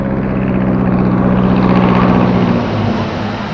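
A small plane arrives at a remote jungle airstrip, its engine a loud, steady drone with a low tonal hum that holds throughout and dips slightly near the end.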